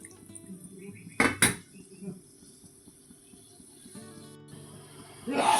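A lid is set onto a cooking pan of ridge gourd and prawn gravy, giving a pair of sharp metallic clanks, then quiet simmering with a few faint clinks and another rattle at the end.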